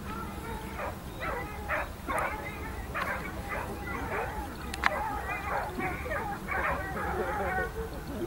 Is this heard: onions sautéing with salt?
no